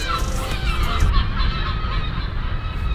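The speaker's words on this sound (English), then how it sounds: "That was what? A bunch of seagulls." A flock of seagulls in Ireland gives loud, harsh, overlapping honking cries over a steady outdoor background rumble, close and continuous throughout.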